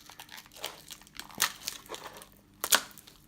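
Tool packaging being unwrapped, with soft crinkles and a couple of sharp crackling bursts of plastic wrap, close but quiet, no talking.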